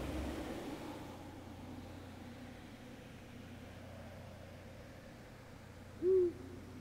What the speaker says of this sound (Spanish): Un búho, entonces.